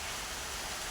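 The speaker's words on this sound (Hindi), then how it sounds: "इस समय बारिश हो भी रही है।" Rain falls in a steady, even hiss of broadband noise for under a second, with no voices or other sounds.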